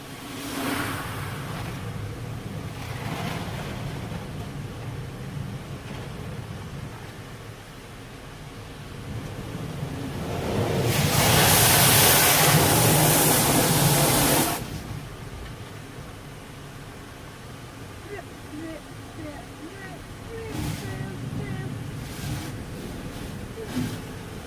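A Ryko Radius first-generation automatic car wash at a gas station hums and rumbles steadily, then a loud hissing spray of pre-soak rises for a few seconds and fades back into the machine's drone.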